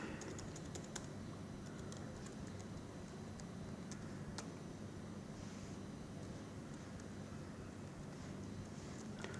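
Quiet, rapid clicking of laptop keys being typed in short runs, close and faint over a low steady background hum, with no talk.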